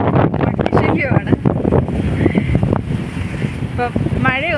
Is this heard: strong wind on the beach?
yes